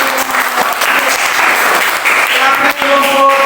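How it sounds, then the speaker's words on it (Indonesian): A classroom group claps loudly and continuously during a teacher training session, dense and close applause with faint voices and a few tonal sounds mixed in. "Tepuk tangan."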